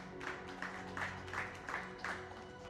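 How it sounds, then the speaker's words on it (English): Applause from the audience at the grand finale of The People's President talent show as a speaker is welcomed onstage, a soft steady clapping in several swelling bursts. "A round of applause for Emmanuel."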